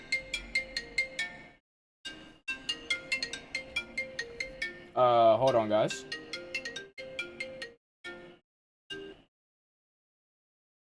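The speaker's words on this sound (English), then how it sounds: "I'm getting a phone call." A phone ringtone plays in a repeating pattern of short melodic bursts, loud and close, with someone talking briefly between the rings.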